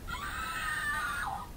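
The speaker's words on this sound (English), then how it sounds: "Here's the scream button." A Dollar Tree novelty scream button toy lets out a single shrill, sustained electronic scream lasting over a second, then falls off in pitch at the end, heard alone and fairly close.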